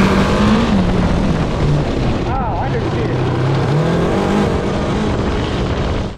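750cc cross kart racing at high speed, its engine a loud, steady drone that holds through the whole stretch and cuts off at the end, with people talking over it.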